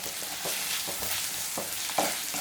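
Tomatoes with salt cooking down in a pan for egg curry: a soft, steady sizzle with a few gentle stirring scrapes, close but fairly quiet, no speech.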